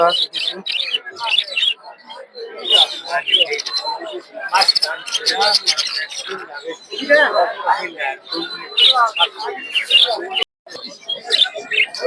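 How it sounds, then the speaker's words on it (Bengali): Many budgerigar chicks chirping at a bird market, dense high twittering and cheeps in bursts, close and fairly loud, with people talking in between. "এদিকে অনেকগুলো বাজিগরের বাচ্চা দেখতে পাচ্ছেন"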